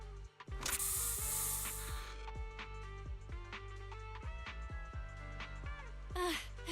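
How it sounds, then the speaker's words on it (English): Bangbu spray in the Zenless Zone Zero video game gives a loud broadband hiss for about a second and a half near the start, over a steady tonal background with scattered mechanical clicks and a shorter hissing burst near the end. "Here, have a taste of this special Bangbu spray."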